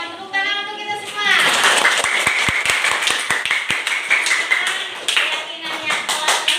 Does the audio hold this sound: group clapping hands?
yes